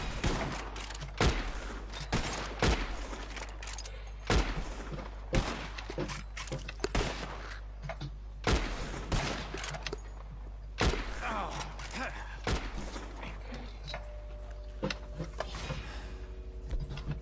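Gunfire from the video game Red Dead Redemption 2 comes as a string of sharp, loud shots spaced a second or two apart, some in quick pairs, over a low steady rumble.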